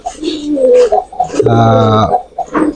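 A domestic pigeon of the high-flying tomprang type coos close by, a throaty rolling call, while someone speaks before and after it.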